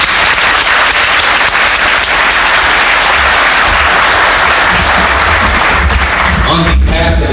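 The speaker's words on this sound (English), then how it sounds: "Please help give me a round of applause." A loud, sustained round of applause from an audience at a Chatsworth Centennial gathering, honoring the Centennial Committee; dense continuous clapping fills the room throughout, with a voice emerging near the end.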